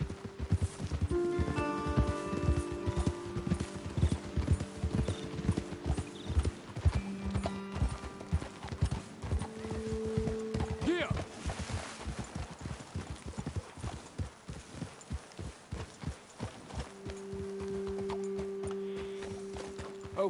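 Steady clip-clop of horse hooves walking on hard ground in Red Dead Redemption 2, with an occasional whinny and a low musical drone in the background.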